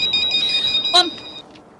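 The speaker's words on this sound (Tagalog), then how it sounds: "Ang telepono." A telephone ringtone chirps loudly and steadily with a rising-falling electronic trill, broken by a brief burst that may be a voice, then stops.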